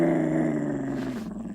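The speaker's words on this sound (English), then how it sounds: "I was awakened by Max growling at something." A dog growls in a low, rumbling, steady tone that lasts about a second and a half, close and fairly loud, with no other sounds.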